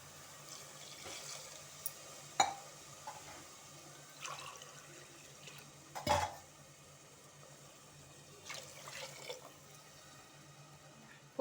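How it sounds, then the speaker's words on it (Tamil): Water is poured into basmati rice for a mushroom biryani, with faint, intermittent splashes and trickles against a quiet kitchen background and no talk. "நான் வந்து 2 டம்ளர் தண்ணி ஊற்ற போகிறேன்."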